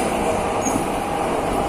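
A SuperVia commuter train arriving at Praça da Bandeira station in Rio de Janeiro gives a steady, loud, close rumble of rolling wheels and carriage noise that fills the platform throughout, with no pauses.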